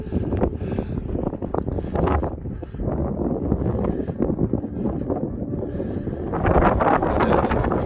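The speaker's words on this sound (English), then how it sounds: "Oh, that wind is a bit cold." Cold wind buffets the microphone on a mountain summit at Drumochter in the Scottish Highlands, a steady loud rumbling roar that gusts stronger near the end, with no voices.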